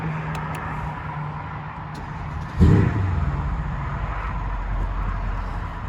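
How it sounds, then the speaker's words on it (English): 2015 Mercedes E63 AMG starting up: a sudden loud catch of the engine midway through, then a deep, steady rumbling idle that continues to the end. "Let's start the car up."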